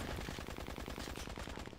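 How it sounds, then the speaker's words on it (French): Rapid machine gun fire from Dead Trigger 2, a fast, unbroken rattle of shots that runs loud and dense through the whole brief moment. "Vous entendez? Ça mitraille."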